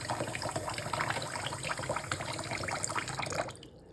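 Surgical or medical instruments rinsed by hand under a running tap, water splashing steadily against metal in a sink with small clinks, then the flow cuts off abruptly near the end, leaving a quieter tail.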